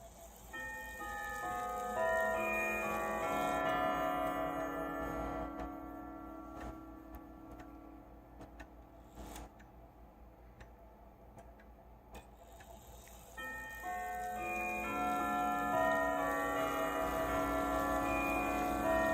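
Grandfather clock chimes ring out in a long, layered melodic sequence of sustained bell tones, fading into a quieter gap with soft ticking before the chiming resumes loudly, with no one talking.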